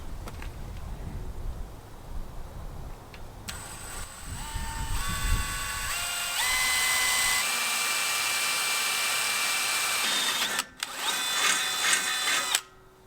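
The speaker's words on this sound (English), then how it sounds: "Let's drill some holes." A power drill bores holes for fitting a seat onto a John Deere Z915E mower, rising through several whining speed steps, then a long steady high-pitched whir, a brief stop and a final burst, close and loud with no talk.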